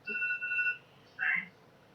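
A mobile phone rings inside a courtroom, a short bright electronic ringtone with steady tones followed by a brief higher chirp, heard close and moderately loud with no talk over it.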